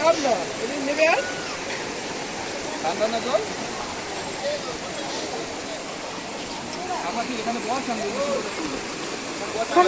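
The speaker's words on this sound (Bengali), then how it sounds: "যে ঝর্ণাটা দেখতে পাচ্ছ এখানে কিন্তু অতটাও জল নেই" A low-flowing waterfall at Panchalingeshwar hill makes a continuous rushing wash, with people's voices talking over it.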